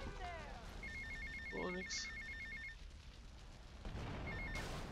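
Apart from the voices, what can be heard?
phone ringing in Grand Theft Auto: Vice City video game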